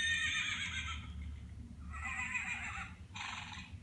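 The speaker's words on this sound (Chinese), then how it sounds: "我们来听听看，这个马" A horse neighs from the sound module of a farm-animal pull-tab sound book, a close, clear whinny in three shrill, shaky bursts separated by brief pauses.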